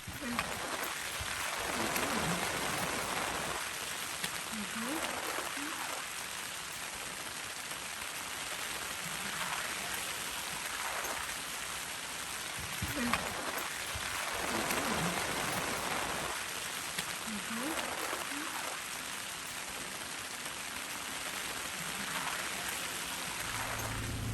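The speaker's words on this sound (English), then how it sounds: "It rained all morning, tearing down." Steady rain pours down on an ATV camping trip in a constant hiss, with occasional louder patters and brief rustling movements close by.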